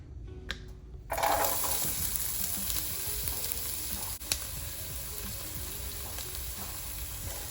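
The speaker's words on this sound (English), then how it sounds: "We're gonna get our onions and our peppers sauteed up." Onions and peppers sauté in olive oil in a pot, a loud steady sizzle that starts abruptly after a second of quiet and crackles on without pause, with a brief stir partway through.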